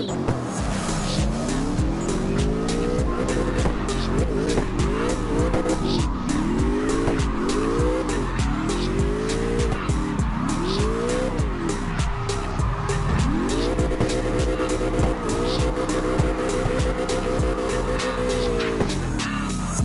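Car drifting in CarX racing game at West Coast Arena, engine revving in repeated rising sweeps while tires squeal and skid continuously, loud and close throughout.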